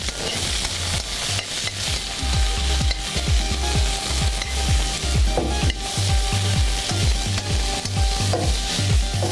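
Shrimp and a marinated protein sizzle loudly in a frying pan for noodles, a steady frying hiss broken by repeated scraping and stirring strokes, close and continuous with no talk.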